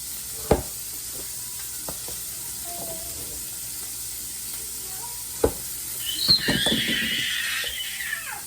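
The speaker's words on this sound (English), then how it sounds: "I have some sausage patties that I'm making" Sausage patties cook in a pan at home with a soft background sizzle, broken by a couple of sharp clicks, then a louder, brighter hiss of frying swelling up near the end.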